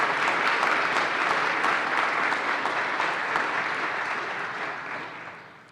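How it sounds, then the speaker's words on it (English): An audience at a VMI gathering applauds parents and grandparents, a dense, steady wash of many hands clapping together that holds strong for several seconds and then gradually fades toward the end. "So if the parents and grandparents would please stand up for a round of applause."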